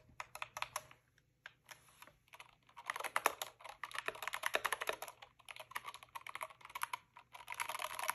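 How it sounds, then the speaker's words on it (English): Typing on a SteelSeries Apex Pro TKL keyboard: quick, fairly quiet key clicks in irregular bursts, close by, sparse at first and then denser and faster, with no voices. "do you hear my keyboard clicking and the mic?"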